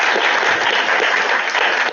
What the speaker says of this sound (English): and a round of applause